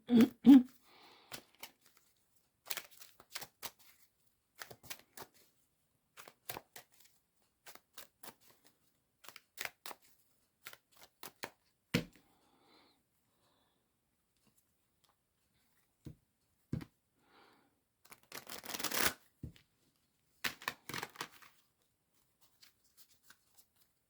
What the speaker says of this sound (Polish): Od razu potasujemy karty dopowiadające.